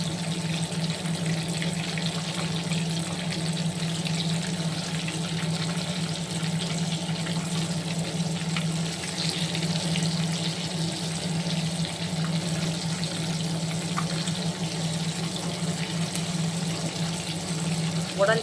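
Kizhangan fish frying in a pan, a continuous, even sizzling hiss with a low steady hum beneath, unchanging throughout.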